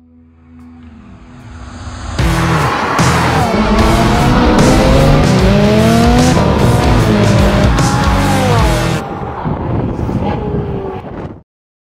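A new Porsche 911 sports car drives past loud and close, its engine note rising and shifting through gears for several seconds before cutting off abruptly, with some wind rush beneath.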